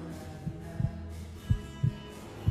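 Heartbeat sound effect in a dramatic TV film scene, a slow, deep lub-dub thumping repeated several times, close and prominent over a low hum.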